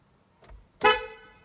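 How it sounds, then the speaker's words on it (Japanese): A single factory Euro horn blast from a Honda S660, loud and close, with a bright, slightly sustained tone that fades out, preceded by a faint brief thump. "ユーロホーン純正でホーンがあるんですね"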